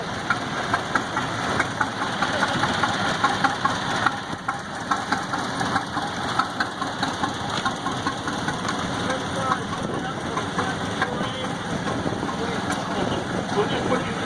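A 1931 tractor engine runs steadily at a parade with a rhythmic knocking chug, mid-level and close, under someone talking.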